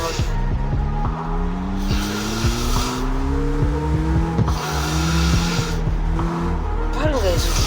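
A car engine in the racing video game CarX Street revs through rising and falling tones, with gear changes and tire squeals, while someone talks over it.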